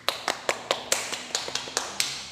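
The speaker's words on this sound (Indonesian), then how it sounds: "Beri tepuk tangan kepada mbaknya." Brief burst of applause for a student in a classroom, with about ten to a dozen sharp, fairly even claps close by over a couple of seconds and no talking.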